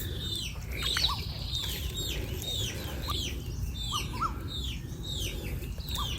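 Chickens cluck and other birds chirp continuously in the rural countryside around a village, close and fairly loud over a steady low outdoor rumble.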